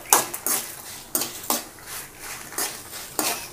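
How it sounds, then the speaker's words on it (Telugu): Dry coriander seeds tipped into a pan of lightly roasting dried red chillies for hotel-style idli podi, with repeated scraping and stirring clinks of a utensil against the pan at an uneven rhythm, close and fairly quiet, no talk. "ధనియాలు వేసుకోవాలి."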